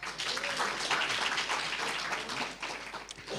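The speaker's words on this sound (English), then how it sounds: "a round of applause for that" Audience at a society's annual general meeting gives a round of applause, a dense, even patter of many hands clapping for a few seconds, fairly close and unbroken.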